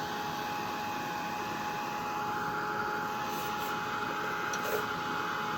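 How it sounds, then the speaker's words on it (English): A heat gun blows a steady, even stream of air to dry red and burnt umber paint on a vegetable crate, a constant close whooshing hum with no break for the whole stretch. "Let me get my heat gun."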